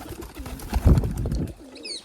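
Pigeons coo in a loft where domestic pigeons are being bred, their low throaty calls rising and falling close by, with a brief flutter of sound near the end.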